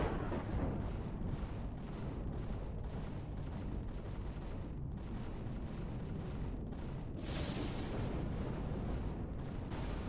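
Weapons fire nonstop in the space survival game Empyrion Galactic Survival, a dense, loud barrage of overlapping shots and blasts filling the whole stretch with no let-up.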